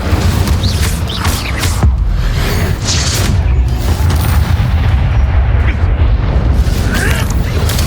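A Hogwarts Legacy Incendio fire spell lets out a loud, continuous roaring whoosh with deep booming rumble that fills the whole stretch, with a few faint voice fragments underneath.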